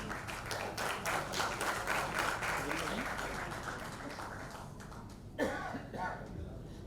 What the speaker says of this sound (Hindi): Raza Murad जी के लिए जोरदार तालियां हो जाएं.